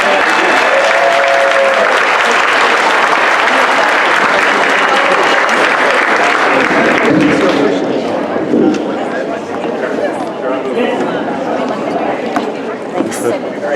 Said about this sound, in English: Round of applause to our helpers.